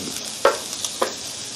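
Cassava balls fry in hot oil with a steady soft sizzle, broken by two sharp clinks of stirring against the pan, heard close.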